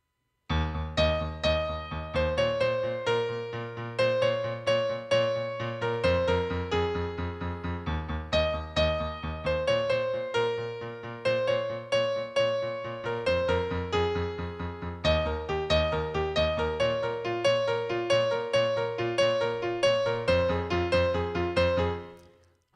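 Solo piano plays a song, its melody layered over the chords: a steady, continuous run of repeated broken-chord figures that changes harmony every few seconds, close and moderately loud, with no voices.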